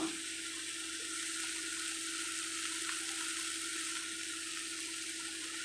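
Brinjal and tomato frying in oil in a pan, a steady close sizzle and hiss throughout with no talk.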